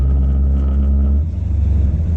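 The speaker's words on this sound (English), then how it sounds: "I'm gonna get y'all some burnout footage" A car engine roars low and loud during a burnout, a steady heavy drone that shifts into a pulsing, throbbing rumble as the revs change.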